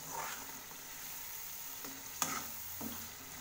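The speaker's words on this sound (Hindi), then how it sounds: "और इसे हल्का ब्राउन होने तक हम भूनेंगे।" Onions and garlic fry in a pan for paneer masala, a faint steady sizzle with soft scrapes of a spoon stirring them, plus one brief clink.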